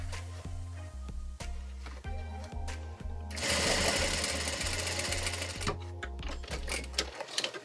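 Sewing machine stitching fabric at a boutique: a steady mechanical needle rhythm with a low motor hum, a denser whirring burst in the middle, then slower individual stitches before stopping.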